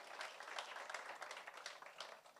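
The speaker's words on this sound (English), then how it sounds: "Let's give one more big round of applause for all the Ribbon Week students" Applause at a school district board meeting for student honorees, a soft, steady patter of many hands clapping, quite faint and distant, lasting the whole few seconds.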